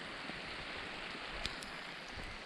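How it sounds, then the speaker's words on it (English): Steady rain falls outside a barn in central Portugal, a soft, even wash of hiss with occasional faint drips, fairly distant and quiet, with no voices. "This rain is wonderful, desperately needed."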